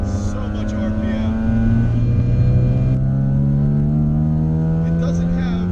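A Nissan 300ZX engine revs high and strong, its note climbing and holding at high RPM with a dense, sustained howl, close and loud, with a brief gear change partway through.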